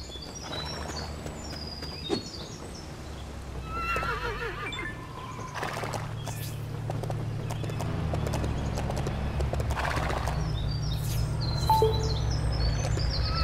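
Rhythmic hooves clip-clop steadily as a horse moves in LEGO City Undercover, with occasional whinnies and faint bird chirps in the background.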